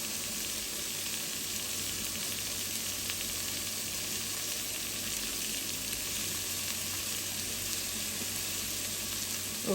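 Beans, carrot and capsicum frying in a pan for egg fried rice, giving a steady, close sizzle with a constant hiss throughout, no voices.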